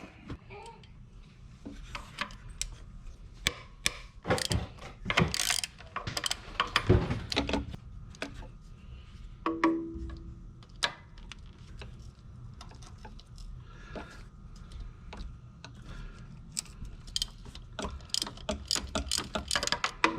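A ratchet wrench loosening a 10 mm bolt during belt and AC compressor work on an Acura, a long run of rapid metallic clicks in uneven bursts with occasional clanks of tools.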